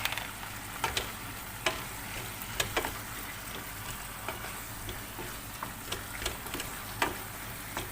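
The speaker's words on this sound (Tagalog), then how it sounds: "Tomato paste to mix." Tomato paste is mixed through a pot of Lebanese loubieh green beans, giving a quiet, continuous low sizzle broken by small scattered clicks and taps of the spoon.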